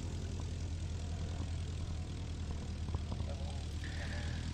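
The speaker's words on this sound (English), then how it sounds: "the two aircraft with their LEDs on out in front of us" Two propeller aircraft fly at an evening air display at IWM Duxford. Their engines make a steady, low drone that sounds distant, under a commentator speaking over a public address.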